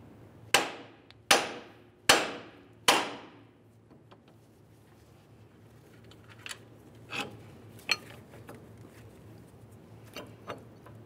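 Four sharp, evenly spaced hammer blows ring out on the ball joint nut of a front lower control arm on a 2002-2007 Chevrolet, followed by quieter scattered metallic clinks and taps.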